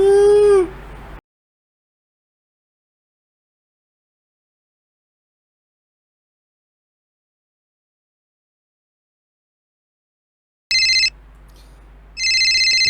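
Short bursts of a mobile phone ringtone, one electronic melodic phrase at the start, then a long silence before repeated bright ringing tones return near the end.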